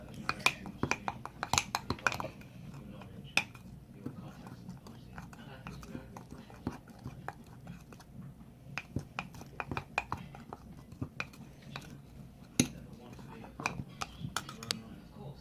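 Spoon stirring a mug treat mix until well blended, giving quick repeated clinks and scrapes against the mug over a low background, close and moderately loud, continuing steadily throughout.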